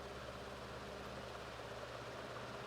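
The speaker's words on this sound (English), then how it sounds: "there's fan noise in the background because of this fan running" A soft, steady whirring drone with a low hum runs without pause from an electric fan running quietly in the background.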